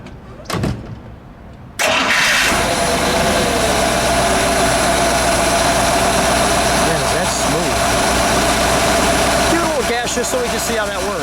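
A 1956 Buick Century convertible engine cranks and catches after a brief quiet start, then settles into a loud, steady idle that runs unbroken to the end, with a person speaking briefly at the start.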